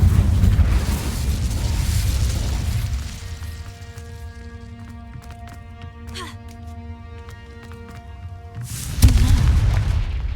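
Fiery spell blasts from Hogwarts Legacy, Confringo and Incendio, crackle and boom in a game scene, with a rumbling burst at the start and a sharp hit near the end among tonal effects.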